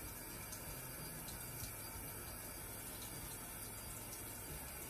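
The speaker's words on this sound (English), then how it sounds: "using lukewarm water, if you can see what I'm doing here, I'm actually just gonna swirl and emulsify the product" Makeup brush swirled in lukewarm water to emulsify cleanser into a foamy lather, giving a steady, close watery wash and faint sloshing that runs continuously without pause.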